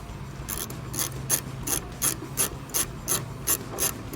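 A 10mm ratchet turning a bolt on a truck tailgate shock, a steady run of crisp clicking strokes about three per second, close and clear with no speech.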